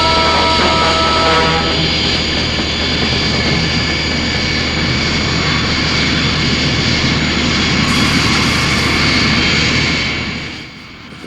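Roaring engine noise for the Thunderbird 2 transport aircraft from Thunderbirds, a loud, steady jet-like drone holding throughout with a brighter hiss rising near the end before it eases off.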